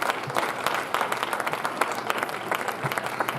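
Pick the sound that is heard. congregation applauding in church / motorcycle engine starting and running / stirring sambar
congregation applauding in church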